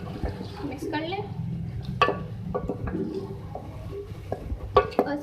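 A spoon stirs beef and spinach curry with tomatoes and salt in a pot, giving soft scraping clinks and metallic taps over a faint sizzle, with a voice talking quietly underneath.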